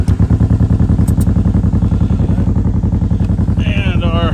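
1958 Berkeley SE-492 restomod car being driven, a loud, close, rhythmic small-engine putter under a steady throb, with a faint high squeal near the end.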